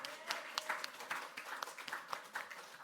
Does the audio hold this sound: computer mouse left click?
no